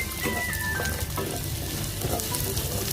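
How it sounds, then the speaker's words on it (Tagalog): Garlic and ginger sauté in hot oil in a pan, giving a steady close sizzle with scraping and stirring sounds throughout. "haluin ng maigi ang ating bawang at ginger till mag-brown"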